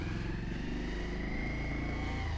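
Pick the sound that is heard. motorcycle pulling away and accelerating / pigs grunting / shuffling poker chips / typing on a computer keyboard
motorcycle pulling away and accelerating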